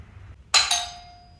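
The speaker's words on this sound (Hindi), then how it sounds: "सुबह सुबह मेरे डोर की घंटी किसने बजाई?" A single doorbell chime in a home rings out loud and close after a quiet moment, its bright tone slowly fading away.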